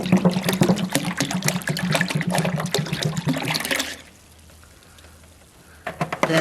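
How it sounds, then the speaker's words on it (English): Apple cider pours into a crock pot in a loud, continuous liquid stream for about four seconds. It then stops to near quiet before a brief splash returns at the end. "First off, you need apple cider in a crock pot."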